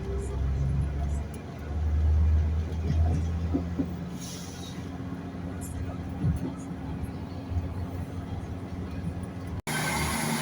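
Greater Anglia train 17424 passes Gunton station with a steady low rumble that rises briefly and holds at moderate loudness, with voices talking over it.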